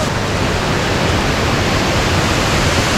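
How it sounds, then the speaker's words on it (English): A small creek pours over a tall waterfall, about 30 feet high, in a steady, loud, broadband rush of falling water that fills the whole short stretch without change. "This little tiny creek is that big waterfall."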